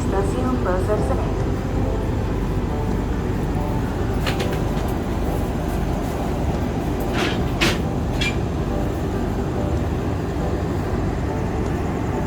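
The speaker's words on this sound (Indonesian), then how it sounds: "Kami informasikan yang telah tersedia di jalur 3 adalah kereta api Singasari dengan nomor K101 dari stasiun Blitar tujuan akhir stasiun Pasar Senen" The Singasari train stands at Purwosari station, a steady, heavy rumble of rail machinery filling the platform, with a few short sharp tonal bursts rising above it.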